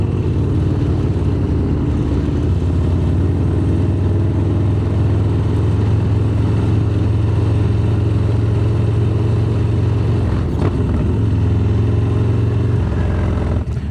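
A Harley Dyna motorcycle engine drones loud and close, holding a steady rumbling tone throughout with a slight rise in pitch midway and no talk over it.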